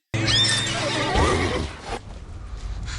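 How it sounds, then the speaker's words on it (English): Horse neighing, a single loud, close whinny that rises and then falls away, followed by quieter rustling and movement. "Sorry about my horse, miss."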